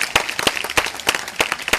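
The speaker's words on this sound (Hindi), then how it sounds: "आप लोगों के लिए जोरदार ताली बजा जोर से।" Audience at a Srimad Bhagwat katha religious gathering clapping in a steady rhythm, about six sharp claps spaced evenly over a soft background of scattered hand claps, loud and close.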